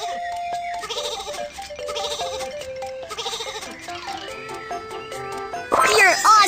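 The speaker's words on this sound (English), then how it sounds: "Some sheep are on the train track." Sheep bleat repeatedly in a children's train video game, their cries rising over bouncy game music, with a louder final burst of effects at the end.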